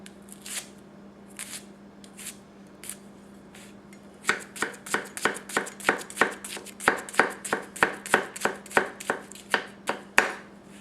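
A Tsutomu Kajihara 210mm gyuto with a convex grind cuts through an onion: a few spaced knife strokes, then a steady run of crisp, close chops against a board, alone with no talk.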